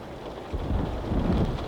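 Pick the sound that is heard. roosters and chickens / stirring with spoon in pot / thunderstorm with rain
thunderstorm with rain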